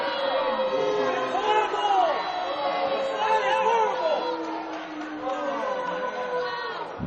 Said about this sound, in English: you hear the reaction of the crowd